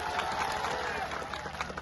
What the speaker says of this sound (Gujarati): એમની માટે જોરદાર તાળીઓ થઈ જાય